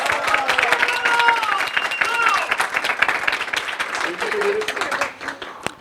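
Clapping from a gathered office audience welcomes the next award winner to the front, a sustained close burst of applause with a presenter speaking over it before it thins out near the end.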